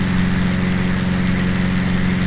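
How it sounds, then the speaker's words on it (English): A Cessna 172's engine drones steadily in the cockpit on the approach to runway 31 as the throttle is reduced. The hum is loud, constant and close, with no voices. "Reduce throttle and bring down to about 65 knots eventually."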